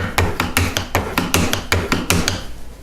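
A steel cabinet scraper is drawn across wood in quick repeated strokes, about a dozen sharp, close rasping pulls in an even rhythm.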